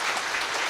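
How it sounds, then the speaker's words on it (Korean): A church congregation at a Lent special early-morning service applauds, giving a brief, even wash of many hands clapping at moderate level with no voices over it. "여러분들 한번 박수로 격려해 주시기 바랍니다"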